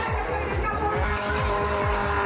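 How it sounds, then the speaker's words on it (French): Cars drifting at full speed at a tuning drift show in Athens, engines roaring loudly and continuously with rhythmic revving surges and tire squeal layered over the top. "Faire des dérapages à pleine vitesse a l'air simple, surtout s'il s'agit de vrais spécialistes."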